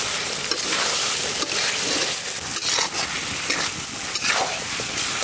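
Fried chicken, boiled chickpeas and whole spices (bay leaves, cardamom, cinnamon and black peppercorns) go into a hot pot in a village kitchen, setting off a loud, steady sizzle with some stirring noise throughout.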